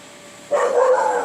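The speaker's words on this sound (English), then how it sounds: "Oops, neighbors' dogs. They're little dogs. They saw a squirrel go by." Small neighbourhood dogs bark excitedly at a squirrel outdoors, a burst of yapping breaking in suddenly after a quiet moment and continuing loud and close.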